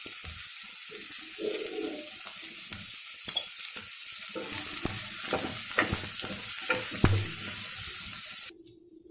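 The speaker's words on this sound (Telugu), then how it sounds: "కొంచెం ఫ్రై చేసుకుందాం" Chicken pieces sizzling in a pan with salt, crackling steadily while a utensil scrapes and stirs in irregular clinks, close and fairly loud, then cutting off abruptly near the end.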